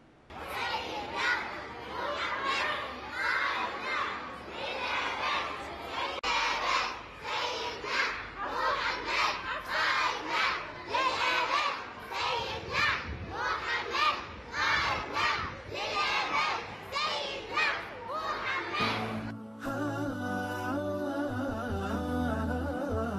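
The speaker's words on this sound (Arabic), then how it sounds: "وتخللت المسيرة هتافات تعبر عن تمسك المسلمين بالقرآن الكريم" A marching crowd on a Baghdad street chants Quranic slogans in rhythmic, repeated bursts, loud and sustained for about twenty seconds before giving way to music near the end.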